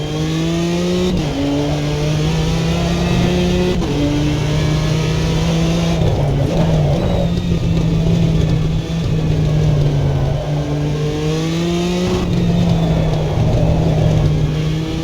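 A car engine drones loudly and steadily in first gear, held at high revs that rise and dip slightly, with tyre and road noise throughout and no talking.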